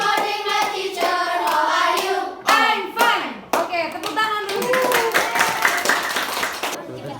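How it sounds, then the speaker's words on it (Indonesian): Children in a classroom clap their hands in rhythmic bursts, mixed with loud chanting and singing voices, close and lively throughout. "Oke, tepuk tangan dulu."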